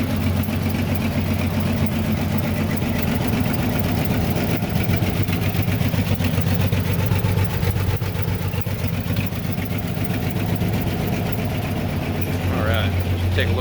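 A 1953 GMC five-window pickup idles steadily up close, its engine a constant low rumble with the faint puffing tick of a slight exhaust leak, and someone talks over it.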